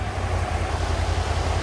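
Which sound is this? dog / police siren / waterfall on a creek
waterfall on a creek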